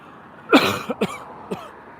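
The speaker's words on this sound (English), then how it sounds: "I need a cough button." A sharp cough followed by two or three smaller coughs, close and fairly loud, with quiet background between them.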